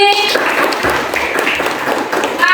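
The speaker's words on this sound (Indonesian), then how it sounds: "tepuk tangan sekali lagi" Children in a classroom clapping their hands together on the teacher's cue, a busy, continuous patter of many small claps, with voices mixed in.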